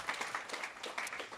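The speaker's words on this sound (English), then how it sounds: "Can we have one more round of applause, please, for Gavin and Sophie?" An audience at a business conference gives a round of applause for panel speakers. The clapping is brief, faint and slightly distant, with no voices over it.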